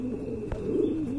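Large, high-quality pigeons at a pigeon market give a soft, low coo once, close and moderately quiet, against steady background noise.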